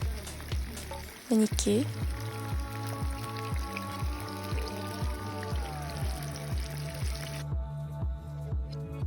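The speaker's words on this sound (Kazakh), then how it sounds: "Қызып тұрған майға екі бетін қызартып қуырып аламыз." Fish frying in hot oil in a pan over an outdoor hearth, a steady crackling sizzle with dense popping under a low rhythmic thumping, and a brief spoken word near the start.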